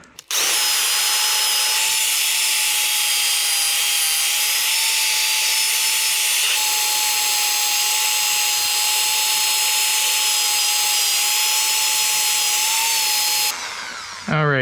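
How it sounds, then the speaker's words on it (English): An angle grinder fitted with a wire brush scrubs heavy rust off a chrome wheel, giving a loud, steady high-pitched whine that runs unbroken for about thirteen seconds before cutting off. "so I may do just the wire brush on the angle grinder."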